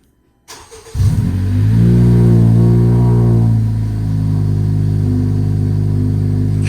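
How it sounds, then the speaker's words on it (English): A Honda Civic Hatchback Sport engine with catless downpipe, catless front pipe and muffler delete fires up and revs into a loud, deep, raspy exhaust roar that holds steady at high idle, close by, with no talking. "So currently catless downpipe, catless front pipe, and a muffler delete on the stock exhaust."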